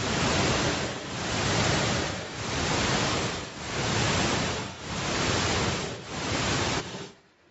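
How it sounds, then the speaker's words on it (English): A deep sleep stimulating sound made of loud pink noise bursts that swell and dip in a slow, even pulse, about six surges of dense hiss before it cuts off. No talking. "We played the deep sleep stimulating sound that was shown to make them have deeper sleep."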